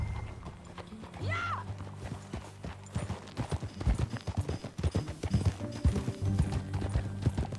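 A horse clip-clops along under a rider, steady hoofbeats growing louder and denser, with a brief whinny early on and a low rumbling background.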